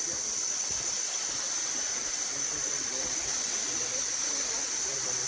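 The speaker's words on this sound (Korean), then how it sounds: "작은 폭포를 하나 만들어놨어요." A small artificial waterfall beside a Thai temple in Chiang Mai, fed by a natural stream, gives a steady, moderately loud rush of falling water that holds even across the whole stretch.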